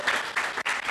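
Audience applauding a young woman at a youth centre talk on public speaking, brief bursts of group clapping in quick pulses, fairly close and loud.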